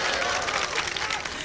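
Applause from an audience at a mushaira poetry recital in Sant Kabir Nagar, a short burst of dense clapping, moderately loud and continuous.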